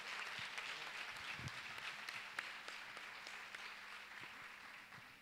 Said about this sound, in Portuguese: uma salva de palmas para a FFP e muito obrigado